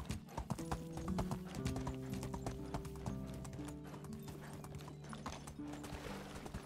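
Horse hooves clip-clopping at a quick steady rhythm while riding in the Medieval Dynasty video game, fairly faint and continuous, with a whinny and a sustained tonal background.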